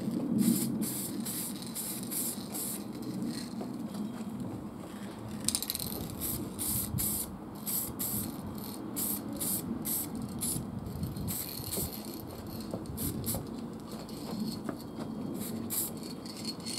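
Lacquer sprays onto a Pokeball container in short repeated bursts of close hissing, with a rattling, pattering texture between the sprays.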